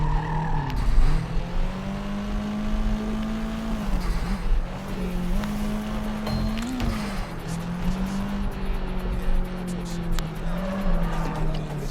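A car's engine drones steadily as it is driven in Sleeping Dogs, its pitch rising and falling with gear changes, with tire squeals and skids breaking in now and then, loud and close throughout.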